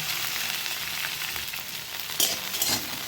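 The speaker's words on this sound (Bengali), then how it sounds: "কড়াইতে প্রথমে আমি অল্প করে তেল দিয়ে দিলাম 2 চামচ। এরপর ব্রকলিগুলো দিয়ে দিলাম" Broccoli fries in a little oil in a wok, a continuous close, loud sizzle with a brief surge of crackling and stirring near the end, no voices.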